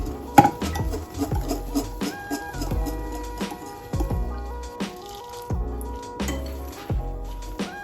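Whisk beating melted butter into sugar and cocoa for brownies in a bowl, a close series of rhythmic clinking and tapping strokes against the bowl, repeating about once or twice a second.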